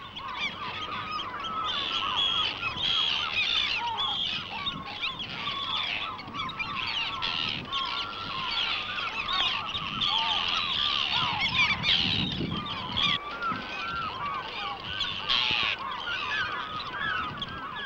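Dense seabird colony in Shetland, a continuous din of overlapping honking, squawking calls from many birds at once, steady and fairly loud throughout with no talk.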